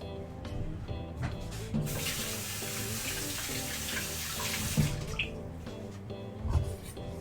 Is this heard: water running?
yes